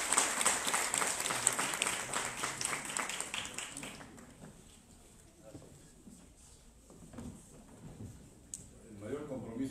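Audience applause at a panel session after a speaker's introduction, a dense burst of clapping that fades after about four seconds into quieter room noise and a few faint sounds.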